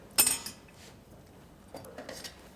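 Butter spooned with a tablespoon onto a dish of kurutlu köfte: a short metallic clink of spoon on dish up front, then a soft scrape and a faint second clatter a moment later.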